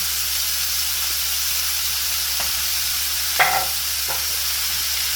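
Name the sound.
pork stir frying in the pan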